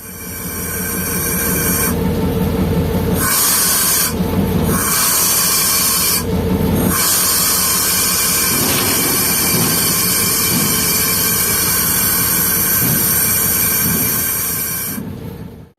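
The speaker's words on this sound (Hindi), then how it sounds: "अब हमारा इंजन जा रहा है अपनी डायरेक्शन चेंज करने" A railway locomotive moving at Habib Kot Junction, loud steady engine drone and hiss with intermittent bursts of high-pitched air release, continuous and close, no talk.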